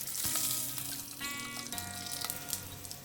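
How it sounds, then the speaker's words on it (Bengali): Prawns fry in a pan for capsicum korma, a steady close sizzle and hiss with faint spoon clinks running continuously, no one speaking. "দেখুন এইভাবে আমি সমস্তটাই ভেজে নিচ্ছি।"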